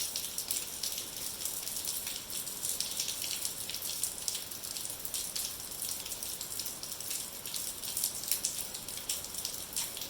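Steady rain falling outdoors during a snowblower engine repower, a dense even patter on surfaces all around, continuous and fairly close, with no talking.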